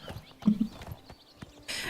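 A few hollow horse hoof clip-clops with a short snort or whinny in the video game Oblivion Remastered, ending in a brief burst of noise; quiet and close.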